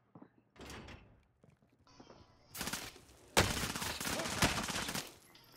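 Automatic gunfire from Call of Duty: Modern Warfare Warzone, with scattered shots early on giving way to dense, loud bursts of rapid fire over the last few seconds, with no talk.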